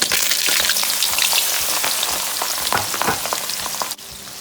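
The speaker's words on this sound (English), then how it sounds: "Now we're gonna fry this until the color of the shrimp changes." Marinated shrimp fry in hot oil in a pot, a dense close crackling sizzle with scattered pops and stirring scrapes throughout.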